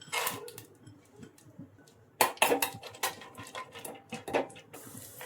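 Cashews, almonds and other dried fruits frying in ghee in a pan, with sharp metal clatters of utensils against the pan coming in bursts over a soft hiss.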